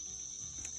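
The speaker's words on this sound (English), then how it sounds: "I can hear the crickets and the birds and all." Crickets chirp outdoors in a steady, high, continuous trill, faint and even throughout the brief moment.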